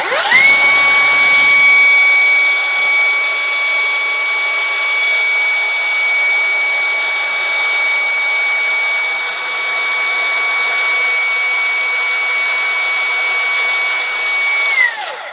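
A large cordless angle grinder with a 230 mm disc spins freely, giving a loud, steady high-pitched whine with ringing overtones. It holds speed for most of the run, then winds down at the end.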